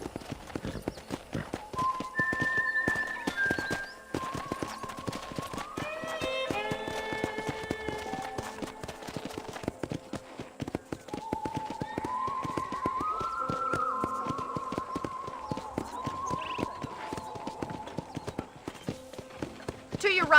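Quick, regular clip-clop of horse hooves trotting in the video game Red Dead Redemption runs throughout, steady and close, with sustained melodic tones layered underneath.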